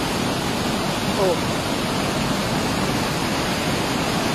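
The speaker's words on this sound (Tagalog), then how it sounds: "masaksihan ninyo kung saan ang tubig na di-release sa Nia Dam" Floodwater roaring out of the opened gates of the NIA Dam during flooding in the Caraga region, a loud, dense, unbroken rush, with a brief voice exclaiming.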